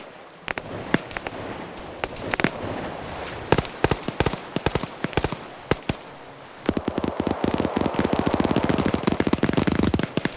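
MG3 machine gun firing in a PvP video game match, rapid bursts of sharp shots, starting sparse and broken, then a dense sustained stream of fire in the last few seconds.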